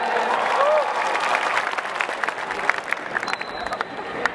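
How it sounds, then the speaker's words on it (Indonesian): Audience applause for Indonesian journalists at a talk show, a steady wash of clapping that thins out and softens toward the end, with a voice briefly rising over it early on. "Tepuk tangan untuk jurnalis Indonesia."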